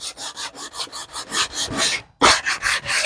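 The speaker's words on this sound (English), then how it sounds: "So we're just getting a little sanding job on it right there." Rhythmic back-and-forth sanding rasps across a wooden canvas stretcher bar, close and steady, with a brief pause before the strokes resume.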